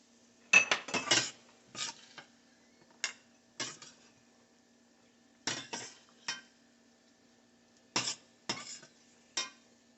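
Roasted cashews, raisins and dried coconut being scraped out of a pan into a bowl, a series of short metallic clinks and scrapes of a spoon against cookware, close and fairly quiet, with pauses between.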